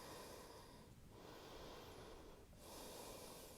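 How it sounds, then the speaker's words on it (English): Slow, deep breathing during a beginners yoga pose, with long, even inhales and exhales close to the microphone over a soft, constant hiss. "And let's take a few more breaths."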